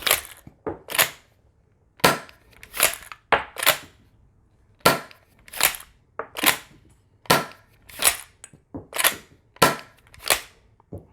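A toy 1887 lever action shotgun is worked and fired repeatedly. About a dozen sharp, close cap-gun cracks come at irregular intervals, mixed with clacking lever and ejected-shell sounds, with no talk.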